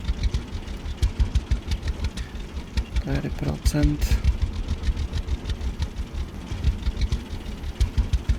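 A farm tractor engine runs in the Farmer's Dynasty video game, a steady mid-pitched chugging and knocking idle pulsing throughout, while someone talks over it.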